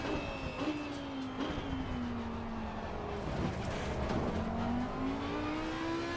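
Audi R8 GT3 Evo II race car in Assetto Corsa Competizione at the Nürburgring, engine droning steadily with pitch sliding down then climbing as it accelerates, close and continuous with no talk.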